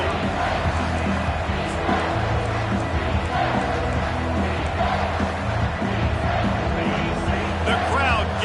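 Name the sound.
stadium crowd cheering in a college football video game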